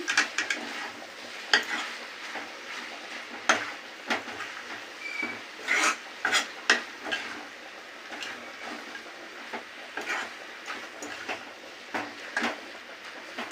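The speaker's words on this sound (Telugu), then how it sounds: "ఇప్పుడు కొత్తిమీర వేసుకున్నాక కలుపుకుందాము." A spoon stirring broad bean and egg curry with fresh coriander in a pan over the heat: repeated scraping clinks and knocks over a soft, continuous sizzle, close up and with no talking.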